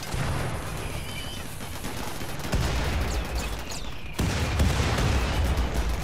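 Gunfire from an inferno cannon and other guns in the RimWorld video game, a dense, continuous rattle of shots with heavier bursts swelling partway through and again near the end, loud and with no talk over it.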